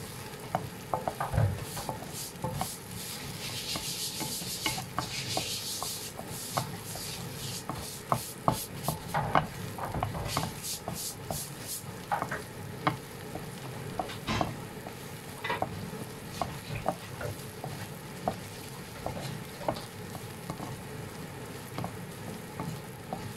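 Pork and garlic flowers are stir-fried in a pan, a soft ongoing sizzle under repeated scraping and clacking of a spatula against the pan, with irregular louder knocks.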